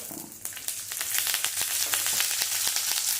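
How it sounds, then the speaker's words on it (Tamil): Coriander seeds, curry leaves and green chillies dry-roasting in a pan over a low flame for a pirandai chutney, giving a steady close sizzle scattered with sharp crackles and pops. "பச்சை மிளகாய் போட்டு கரியாமல் வறுக்கணும்"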